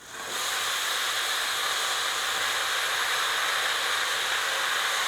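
Brinjal and drumstick pieces frying in hot oil with turmeric, a loud, steady broadband sizzle that starts abruptly and holds evenly throughout, with no talking.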